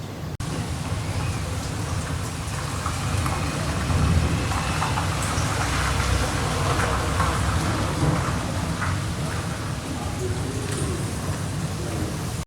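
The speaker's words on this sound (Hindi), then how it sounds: "आज बारिश हो रही है" Steady rain with rolling thunder, a continuous hiss of falling water with low rumbles rising and fading, heard fairly close.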